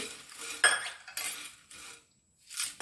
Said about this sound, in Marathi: हे सगळं परतून घ्यायचं अगदी मंद आचेवर